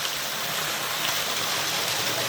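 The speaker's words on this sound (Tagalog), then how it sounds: "May pinakabalon dito guys oh. Yan, pinag-ahulugan ng tubig oh." Water pours steadily into a natural hole or spring in the ground, a dense, even rush of flowing water heard up close with no voices.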